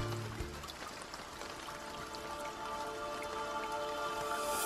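Steady rain from a grassland thunderstorm patters on surfaces as a soft, continuous hiss of dense drops, fairly faint and even from start to finish with no voices.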